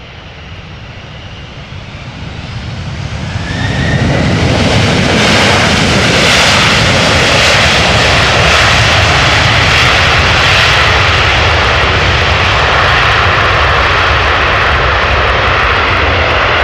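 Jet airliner engines at Amsterdam Schiphol Airport swell from a moderate whine into a loud, sustained roar within a few seconds, holding a powerful broadband rumble as the aircraft powers up nearby.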